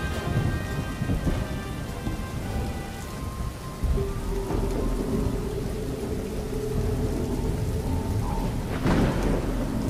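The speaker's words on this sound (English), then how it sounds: "A heavy rain continues today down here at the Wormwood Research Facility" Heavy rain pours steadily while thunder rumbles low underneath, with a sharper crack of thunder near the end, a continuous storm close by with no voices.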